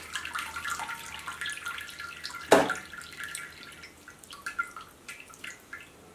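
Water splashing and trickling as cold water rinses boiled vermicelli, with a brief louder gush of pouring followed by scattered drips and light sloshing, fairly close and quiet.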